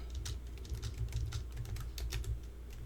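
Close, rapid clicking of keys on a computer keyboard, an uneven stream of light taps running steadily throughout with no voices.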